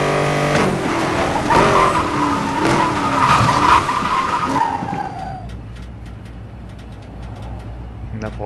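Car tires skid and squeal under hard braking in the Need for Speed Most Wanted racing game, a loud drawn-out screech over engine roar that fades after about five seconds into quieter engine and game noise.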